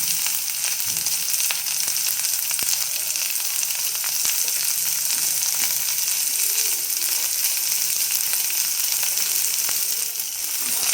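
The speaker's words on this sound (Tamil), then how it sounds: "இப்போ கொஞ்சம் ஃப்ரை பண்ணிக்கோங்க" Capsicum, carrot and beans sizzle steadily in a hot pan as they fry for ragi soup, a continuous close crackling hiss with faint stirring, no talk.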